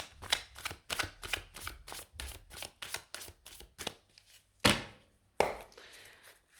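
Tarot cards shuffled in a quick run of about a dozen crisp riffling snaps, then a pause before two sharper slaps as cards are laid down, close and fairly quiet with no talking.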